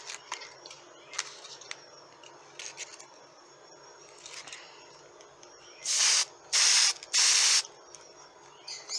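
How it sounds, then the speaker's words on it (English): Three loud, sharp hiss bursts from a spray can aimed at a paper rose held on a wooden skewer, each lasting about half a second with short gaps between, following quieter handling rustles. "so I just hold the skewer, the rose with the skewer, and just give it a spray"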